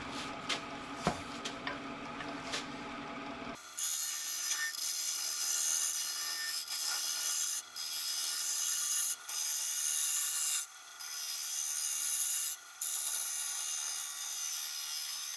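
A carbide carving tool rasps steadily across live edge black walnut, shaping a transition about half an inch deep, the close, continuous scraping broken by a few brief pauses.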